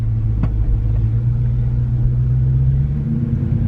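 A Dodge Charger R/T V8 idles with a deep, steady, loud rumble close by, a single short blip of revving near the start, then settling into a constant low drone.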